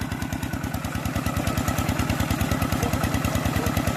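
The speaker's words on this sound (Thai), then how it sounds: "เครื่องสูบน้ำครับ" A walk-behind farm tractor engine drives a water pump drawing water through a large pipe, chugging in a fast, even beat of close, loud thumps with a metallic clatter, running steadily the whole time.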